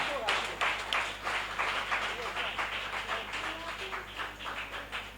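A congregation in a church bursts into sustained applause and acclamation, dense rhythmic clapping that rises strongly and then slowly tapers, with voices mingled in.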